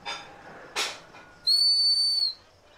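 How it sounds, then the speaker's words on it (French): A single sustained, shrill whistle blast on a farm, blown loud and close to call someone, preceded by a couple of short breathy puffs. "Et maintenant, elle a le sifflet pour m'appeler."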